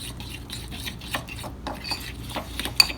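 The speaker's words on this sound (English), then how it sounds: "And we just mix it all together with our trusty fork." A fork stirs cupcake frosting for pumpkin and chocolate chip cupcakes in a bowl, giving soft, irregular scraping and clinking taps up close, with one sharper metallic tick near the end and no talk.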